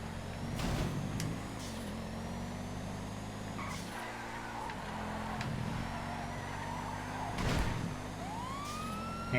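An emergency vehicle siren in the GTA FiveM video game, wailing and sweeping over a droning engine, with several sharp bursts and a rising tone near the end, no talk.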